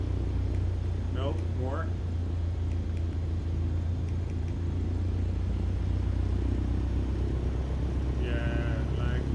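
An aircraft engine runs up in Microsoft Flight Simulator 2020 as a steady, low, droning rumble throughout, with brief speech over it.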